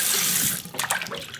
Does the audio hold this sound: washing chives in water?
yes